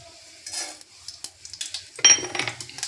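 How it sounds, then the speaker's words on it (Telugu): Spices crackle and sizzle in hot oil in short bursts, with a spoon scraping and clinking against the pan. "ఇప్పుడు తాలింపు పెట్టుకుందాం. వేసేసుకొని పోపు దినుసులు వేసేసుకుందాం"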